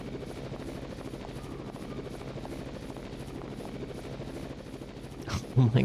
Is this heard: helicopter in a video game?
yes